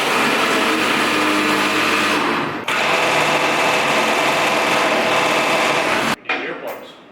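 A pneumatic air tool hammering at seized bolts on an old square-body truck under restoration, a loud continuous rattling buzz close by with one brief dip, then it cuts off and a voice follows.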